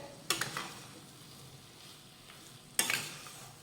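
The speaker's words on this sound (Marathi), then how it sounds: "आता वेलची पावडर आणि काजू बदामाचे काप घातल्यानंतर एकदा मिक्स करून घेऊयात" A dish is stirred after cardamom powder and cashew and almond slivers are added, with two distinct scraping stirs of a spoon against the pan, about two seconds apart, over a faint sizzle, with no talking.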